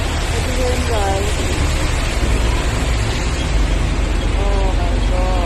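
Heavy rain pouring down outdoors in Hong Kong, a dense, loud, constant hiss filling the scene while voices murmur faintly underneath.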